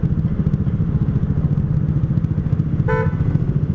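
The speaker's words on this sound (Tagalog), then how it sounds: "Anong busina nito?" A short horn beep sounds once near the end of the clip, briefly cutting over the loud, steady rumble of a running RFI 175 motorcycle fitted with an Akrapovič muffler, heard close.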